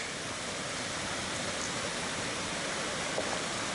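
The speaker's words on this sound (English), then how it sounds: "So this must be Cataract Falls." Cataract Falls waterfall on the Colorado Trail, near a creek crossed by a bridge, gives a steady broadband rush of falling water that holds constant and fairly close throughout, with no voices.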